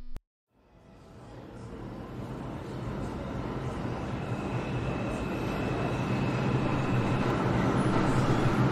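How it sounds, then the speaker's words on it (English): A train rumbles steadily and loudly, a continuous rolling roar that builds slightly over several seconds after a brief silence. "This train took me on the ground level"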